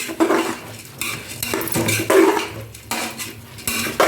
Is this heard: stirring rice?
yes